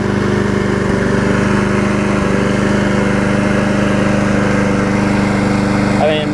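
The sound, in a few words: Murray self-propelled lawn mower engine running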